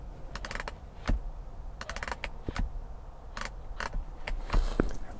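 Headrest adjustment in a Ford F-150 Tremor interior, a series of small sharp plastic clicks in short clusters, close and fairly quiet against a soft room hiss.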